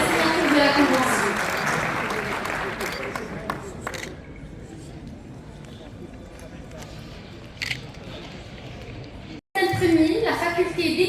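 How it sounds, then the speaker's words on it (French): Audience at a university event applauds the partners after a convention signing; loud clapping opens and fades within a few seconds, leaving quieter room chatter and scattered clicks before a brief burst of noise returns. "Sous vos applaudissements, mesdames et messieurs, pour féliciter les partenaires pour la signature de la convention."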